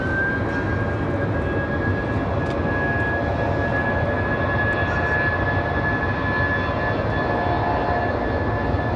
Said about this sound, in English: Nice sounding A319 departure.